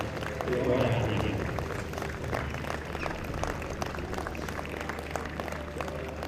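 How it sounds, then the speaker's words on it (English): Spectators at the 2019 Archery GB National Tour recurve finals clap for the athletes, moderately loud and steady, with a hum and faint voices mixed in beneath the applause. "please give a warm round of applause to our athletes"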